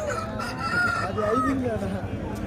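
A rooster crows loudly and close by at a poultry market in Piler, one long drawn-out call, amid farmyard noise with faint clucking.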